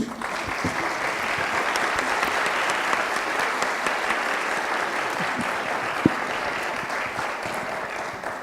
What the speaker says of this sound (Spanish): pedimos un aplauso para ellos